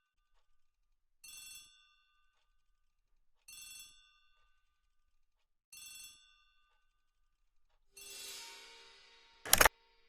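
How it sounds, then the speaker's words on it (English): An old-style telephone bell rings in a hall in a video game, three short separate bursts of ringing spaced about two seconds apart, then a longer ring ending in a sharp loud click, with silence between. "The telephone in the hall is ringing."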